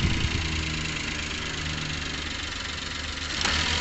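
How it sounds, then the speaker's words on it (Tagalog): A car engine idles roughly, misfiring from a sensor fault, with a loud, steady, close rumble and a vibrating, uneven pulse that swells slightly at the end. "Talagang mag-vibrate talaga ang makina mga kalbularyo."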